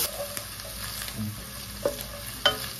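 Sliced onions with ginger garlic paste fry quietly in a pan, a soft low sizzle with occasional sharp pops and spatula scrapes, no voices.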